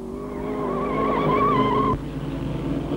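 A Saab racing car on a 1963 circuit, a close, rising engine note with a squealing tyre that cuts off abruptly, leaving a lower rumble, with no talk.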